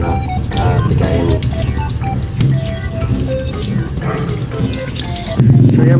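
Pork intestines being washed under running water from a tap, a loud continuous splash and gush with some handling sounds, close by and with a voice faintly underneath.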